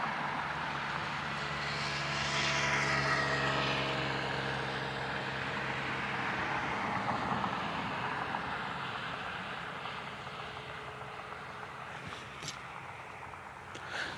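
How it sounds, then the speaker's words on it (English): Jet airliners, including Boeing 737 MAX aircraft, taxiing at Cleveland Hopkins airport on a smoky day give a broad distant roar that swells and then slowly fades, with faint outdoor background throughout and no talking. "waiting on our 3 737 Maxes that are taxiing out"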